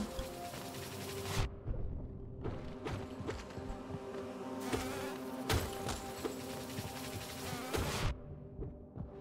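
Small flies or bees from Hollow Knight buzz in repeated bursts, each a few seconds long with short gaps between, a dense close hum layered over game background sound.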